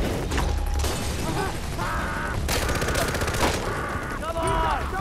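Heavy gunfire in Far Cry 4, a loud, dense stretch of rapid automatic bursts and shots that never lets up, with shouting voices mixed into the chaos.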